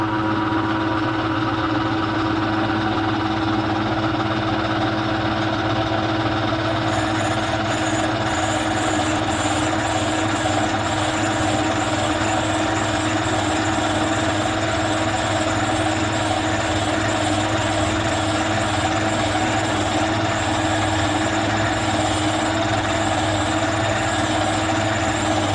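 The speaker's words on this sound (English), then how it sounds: "we're over here at the old Sioux valve grinder here. We're going to see if we can't put a little bit of a grind on that." An old Sioux valve grinder runs steadily with a continuous, even motor hum and whirr, close by and unbroken for the whole stretch, with no talk over it.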